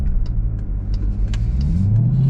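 The engine of a 2024 Dodge Durango SRT Hellcat revs hard on throttle, a loud, close, continuous roar that rises steadily in pitch as the SUV accelerates.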